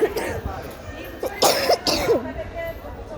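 A few short coughs and throat-clearing sounds from someone with a cold break up soft, indistinct talk, close to the listener.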